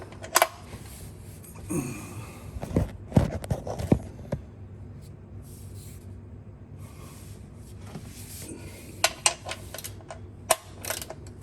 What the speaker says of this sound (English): socket that fits the plug is a 3/4 inch socket